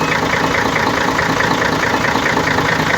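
A car engine runs steadily at idle after a knocking and blowby repair, giving a loud, continuous, even hum with no pauses.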